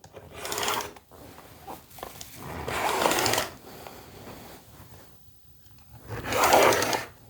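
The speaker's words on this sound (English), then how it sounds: "So I'm just going to use my rotary cutter and trim this down." Rotary cutter slicing through the fabric edges of an appliqué quilt block, heard as three separate rasping, scraping strokes close by, with quieter handling noise between them.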